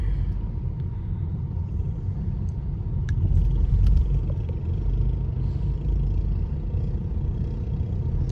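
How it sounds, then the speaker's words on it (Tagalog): Heavy road traffic in Parañaque rumbles steadily from inside a vehicle, with a low continuous engine and tire drone, a swell of passing noise midway and occasional faint clicks and clatter. "Ayan, traffic na naman. Dami ng mga sasakyan."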